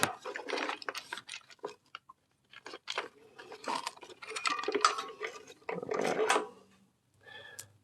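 Close mechanical ratcheting clatter as the chain of a Husqvarna 455 Rancher chainsaw is pulled round by hand, coming in irregular bursts separated by short silences.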